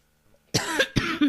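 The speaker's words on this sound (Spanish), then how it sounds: "me ha cogido la tos" Two harsh, close coughs in quick succession after a moment of near silence, loud and abrupt.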